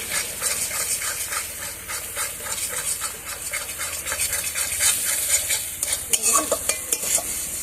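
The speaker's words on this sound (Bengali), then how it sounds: "মশলাটা ভালো করে কষাতে কষাতে মশলার থেকে তেলটা ছেড়ে দিয়েছে।" Spiced masala for a chicken curry being stirred and fried in oil in a pan, a steady rhythmic scraping of the spoon over a continuous sizzle and hiss, close and fairly loud with no talking.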